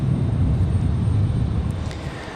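American Airlines A321 airliner at Raleigh-Durham International Airport, a steady low engine rumble at moderate distance, fading slightly toward the end.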